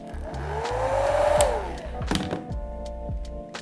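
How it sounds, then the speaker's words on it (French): A hair dryer blows on a watercolor painting of fish, giving a close, steady whirring rush with a whine that rises and falls, followed by a few hollow knocks and thumps. "Je vais utiliser mon sèche-cheveux pour accélérer le séchage."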